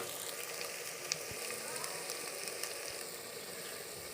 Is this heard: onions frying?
yes